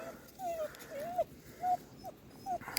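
A hunting dog at boar-hunting field trials whimpers in a string of five short, high, rising whines, moderately close, over faint outdoor background noise.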